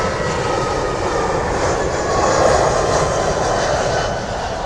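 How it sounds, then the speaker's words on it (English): An Aer Lingus airliner landing at London Heathrow, arriving from Cork, makes a loud, steady engine roar close by that swells slightly midway and holds throughout, with no talk over it. "there's going to be an Aer Lingus arriving from Cork. Very loud."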